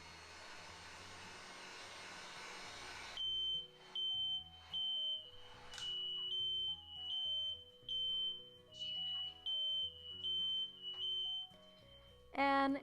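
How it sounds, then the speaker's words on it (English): After a heat gun blows and then stops, smoke alarms sound from the smoke it gives off: a loud, shrill beeping in regular repeated pulses, with several units going off together indoors. "the heat gun started producing some smoke, and all of the alarms went off"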